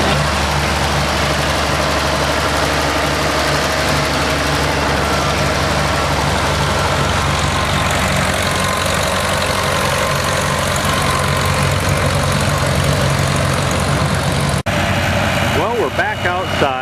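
An antique International Harvester tractor idles at a tractor show, giving a loud, steady low rumble that runs unbroken through the whole stretch, with faint voices in the background.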